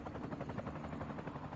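Steady low rotor thrum of a helicopter, continuous and fairly close, with a broad engine whine over it and no talk.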